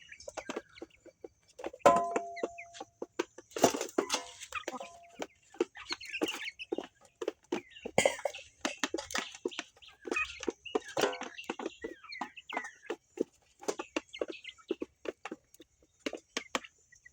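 A flock of backyard chickens eats feed, with frequent close clucks and soft squawks overlapping with pecking and scratching noises. The sound runs busy and irregular throughout.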